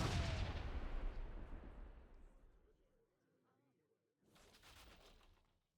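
A heavy cannon shot from the Japanese faction in Age of Empires IV booms loudly and fades over a few seconds, then a second, softer burst follows.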